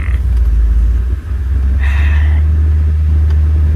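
A 1977 Corvette C3 engine rumbles steadily and loudly up close, with a brief dip and a rising rev as the car pulls away; no talking.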